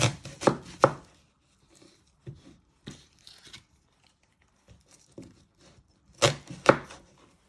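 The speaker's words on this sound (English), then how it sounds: "Then you're going to chop your other ends." A knife chops the ends off a red onion on a cutting board in sharp, close bursts: a quick cluster at the start, a few isolated cuts in the middle, then another rapid flurry near the end, with quiet pauses between.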